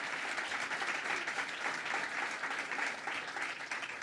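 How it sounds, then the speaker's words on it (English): Audience applause at a dedication ceremony for a completed children's museum, steady, dense clapping from a sizable crowd that holds at an even level throughout with no talk over it. "Let's give them a round of applause."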